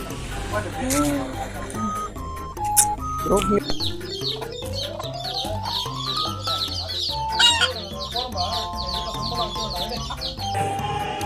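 Hens cluck and chirp in short bursts close by, mixed with other bird calls and rustling movement in a busy outdoor yard.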